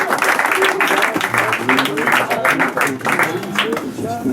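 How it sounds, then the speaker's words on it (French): Audience applause at a slam poetry night in a tavern in Grasse, close, uneven clapping with murmuring voices mixed in, pulsing rather than steady across a few seconds. "s'il vous plaît, mesdames et messieurs, on applaudit Muriel."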